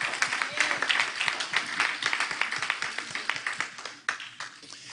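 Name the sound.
congregation applauding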